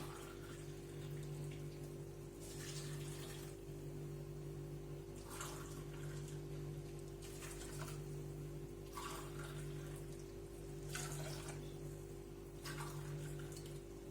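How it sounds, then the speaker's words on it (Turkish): Water poured from above onto onions in a pot for red lentil soup, a faint steady pouring wash with soft intermittent splashes over a low background hum. "Su ilave ediyorum üzerine."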